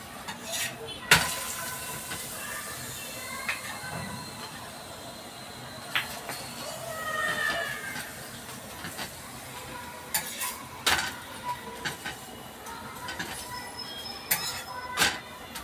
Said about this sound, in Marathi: आता मी तूप लावते.